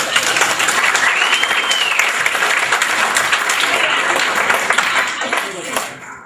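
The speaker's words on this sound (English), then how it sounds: "Let's give a round of applause" A conference group breaks into a round of applause, continuous dense clapping that fades out over the last second, with a few voices underneath.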